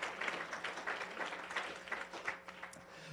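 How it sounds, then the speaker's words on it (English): Scattered audience applause at a Las Vegas Rotary Club weekly meeting, fairly quiet and somewhat distant, a steady patter of clapping lasting a few seconds with no talking over it. "That deserves a round of applause."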